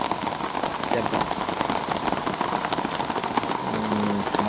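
Steady rain patters down on surfaces as a dense, continuous hiss, fairly loud and close, with a faint low hum of a passing engine underneath.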